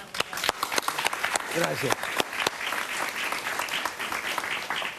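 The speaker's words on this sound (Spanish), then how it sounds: "Un aplauso para él." Studio audience applause during a televised political interview, a dense burst of clapping with sharp claps standing out near the start, while a voice briefly speaks over it.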